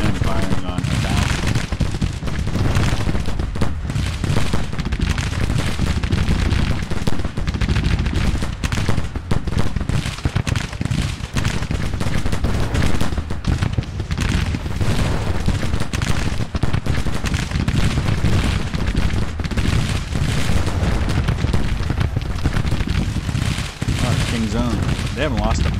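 Massed Civil War musket volleys in Grand Tactician: Civil War, thousands of rifles firing in a dense, continuous crackling roar of overlapping shots with distant rumbles, loud throughout, with no talk.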